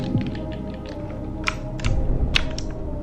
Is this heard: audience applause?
no